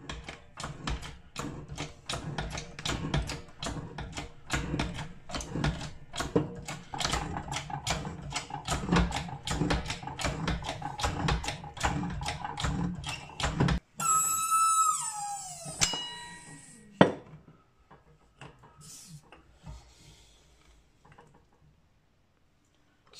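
A keyway is cut into a 49-tooth gear for a 2-inch Fowler showman's traction engine: a rapid run of rhythmic metallic clanks and taps from the machine, then ringing metallic squeals, one sharp knock and fading quiet.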